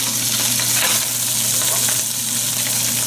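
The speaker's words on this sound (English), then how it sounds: "I want to add the shrimp shells just to color them and to give a distinct smell" Shrimp shells sizzle and fry steadily in hot oil in a pan, a loud continuous crackling hiss with no talk, while making spicy prawns.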